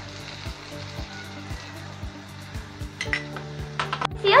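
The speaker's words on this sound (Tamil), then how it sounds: "ரொம்ப வதங்க வேண்டாம், லைட்டாக மட்டும் வதங்கினா போதும்." Onions sauté lightly in a pan for chicken Manchurian, a soft steady sizzle with regular faint stirring taps, building toward louder clinks and scrapes of utensil on pan at the end, no talking.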